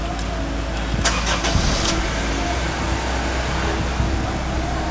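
A third-generation Honda CR-V, whose RPM and speed needles are unstable, cranks with a brief burst of starter noise and settles into a steady, close engine idle.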